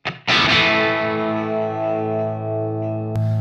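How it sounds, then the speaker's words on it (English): A single distorted electric guitar chord through a 1979 Marshall JMP 2203 tube amp rings out loud and sustained, thick with overdrive, then a fresh strum hits near the end. "here's what the amp sounds like with the preamp down at 9 AM."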